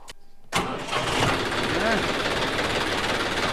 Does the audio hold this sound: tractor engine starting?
yes